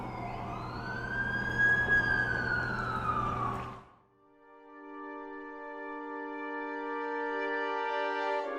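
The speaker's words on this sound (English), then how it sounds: "That's the ambulance I called." An ambulance siren wails loudly in The Amazing Spider-Man video game, its rising and falling tone filling the first four seconds before it cuts to a steady, sustained electronic tone.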